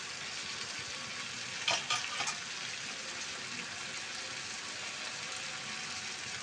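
Rice and lentils frying in a pan with vegetables for a rainy-day vegetable khichuri, giving a steady close sizzle throughout, with a few brief louder stirring scrapes early on.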